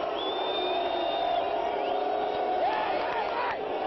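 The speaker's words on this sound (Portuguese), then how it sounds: "Escute a reação da torcida." Football crowd at a Copinha youth match between Fluminense and Ji Paraná roaring after a goal, a loud sustained mass of cheers and whoops with individual shouts rising through the din.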